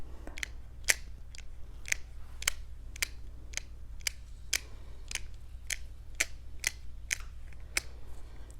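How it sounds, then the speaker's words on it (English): A small plastic clip is clicked repeatedly, close and crisp, in a steady run of sharp snaps about twice a second against a quiet low hum. "it kind of makes a nice clippy plastic sound"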